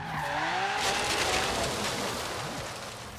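A car drifts in Forza Horizon 3, tires squealing and skidding loudly over a roaring engine in one sustained slide that fades slightly toward the end.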